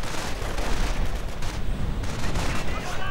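Battle gunfire between grenadiers and riflemen in a wartime strategy game comes as a dense, continuous crackle of overlapping shots and bangs, loud and sustained with no pauses.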